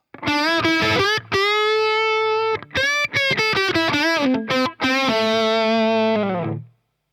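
Heavily distorted Les Paul electric guitar through a CTC Heatseeker pedal on a JCM 800 setting plays a short riff of chords and single notes, loud and close, ending on a long ringing chord that fades out.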